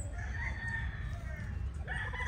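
A gamefowl rooster, one of the grey brood stags on a farm, crows loudly and steadily for about two seconds close to the microphone, over a low rumbling background.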